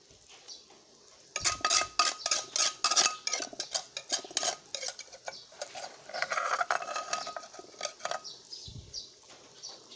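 Pounded garlic stir-fried in a pan for Thai khanom jin curry: a metal spatula scrapes and clatters rapidly against the pan over a faint sizzle, close up, with no talk.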